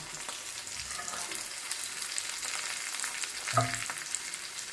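Tamarind, coconut and cooked tomato frying in oil for Karnataka bassaru, a continuous close sizzle with scattered crackles and one clank of a utensil, no talking.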